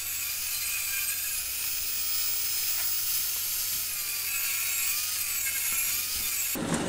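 A table saw rips 18mm plywood into 13cm strips, making a steady, fairly quiet broadband whirring hiss throughout, with a sudden sharp burst at the very end and no talking.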